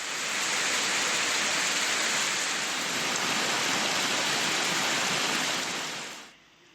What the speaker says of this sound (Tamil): தேனி மாவட்டம் பெரியகுளம் மற்றும் அதனை சுற்றியுள்ள பகுதிகளில் இரண்டாவது நாளாக 1 மணி நேரத்திற்கு மேல் கனமழை பெய்தது